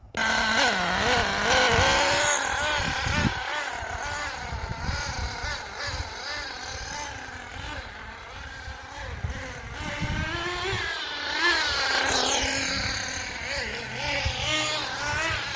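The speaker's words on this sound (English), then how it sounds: "Sounds like she is bogging down a bit." An HPI Firestorm 10T nitro RC car engine, needing a tune with a worrying carb, buzzes loudly and unevenly for about fifteen seconds, its pitch wavering and sagging as it bogs down, with no talk over it.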